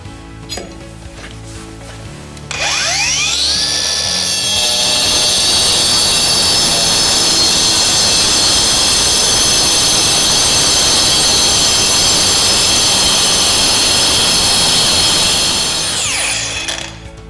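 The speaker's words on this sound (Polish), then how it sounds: "tarcza bardzo szybko i precyzyjnie tnie w betonie" An angle grinder fitted with a Rawlplug diamond disc spins up with a rising whine, then cuts steadily into concrete with a loud, sustained high-pitched grinding roar, and winds down at the end. No voices.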